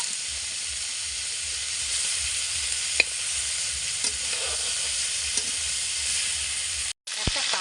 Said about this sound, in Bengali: এবার তেলের মধ্যে চিংড়িটা পাশে দিয়ে দিলাম। চিংড়িটা একটু নেড়ে নেব।